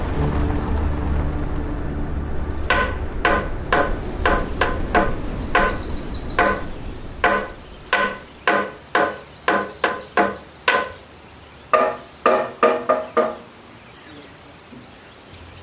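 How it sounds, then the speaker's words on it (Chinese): Sharp clinking hammer blows ring out at dawn in Bajiao ancient town, Gannan, in uneven bursts, some quick runs and some spaced strikes, over a low background rumble that thins out. "叮叮当当的敲打声和鸟叫，伴随着八角古城的苏醒"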